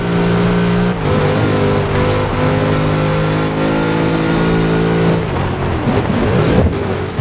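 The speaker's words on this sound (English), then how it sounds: "Such power in the big Chevrolet engine." Big Chevrolet engine revving hard in the Forza Horizon 4 racing game, a loud sustained drone with steady harmonic pitch that drops and turns rougher near the end, with no voices over it.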